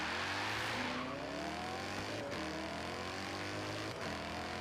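A 1987 Buick races a McLaren in Forza, engines roaring loud and continuous with rising revs and gear shifts that step the pitch up and down.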